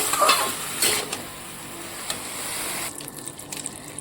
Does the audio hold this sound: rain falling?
no